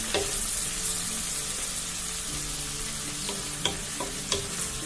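Shallots sizzling and frying in a pan over a high flame for a Kerala fish curry, with a steady crackle and a few sharp clicks from stirring, close and alone.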